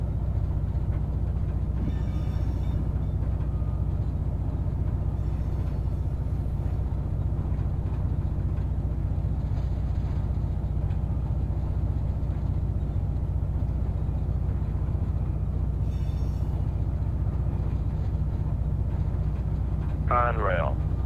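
A CSX coal empties train bound for Lehigh Cement in the Run 8 train simulator rolls by with a steady low diesel rumble and drone, and short bursts of voice cut in over it.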